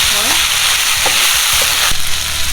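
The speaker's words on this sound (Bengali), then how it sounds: "ভাজা ভাজা করে আমি ডাল সেভাবে ভাজা ভাজা করি" Lentils fry in a pan with a loud, steady sizzle, broken by a few sharp scrapes and clinks of a stirring spoon, close up with no speech.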